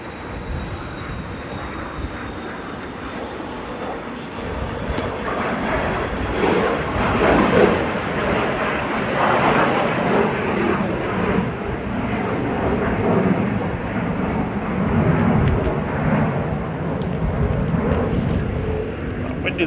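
Airliner landing at Manchester Airport with a loud, steady roar that swells and sustains across the whole stretch, heard outdoors in rising wind, with faint voices in the background.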